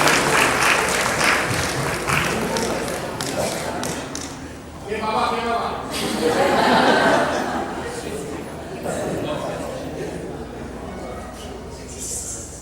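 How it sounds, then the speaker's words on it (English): Guests at a graduation celebration applaud in loud, uneven bursts, with chatter and light laughter running over and between the clapping. "give yourself a big massive round of applause too"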